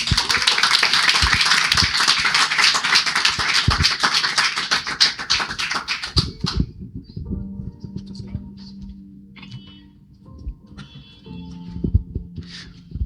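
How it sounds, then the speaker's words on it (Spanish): Strong congregational applause for the Lord during a church service, a dense wash of clapping for about six seconds that cuts off into quieter room sounds with scattered taps and murmurs. "Démosle un fuerte aplauso al Señor."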